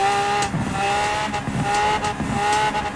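Turbocharged 1200 BHP Lamborghini Aventador in Forza Horizon 4 revs hard, a loud, steady, high-pitched engine whine with rhythmic gear-shift dips roughly every half second and a sucking turbo character, close and alone.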